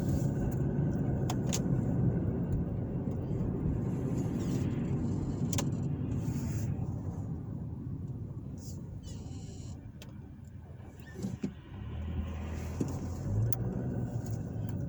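A car drives along a street in Broad Ripple, Indianapolis, with a steady engine and road rumble heard from inside the cabin and passing traffic noise around it, as a person talks throughout.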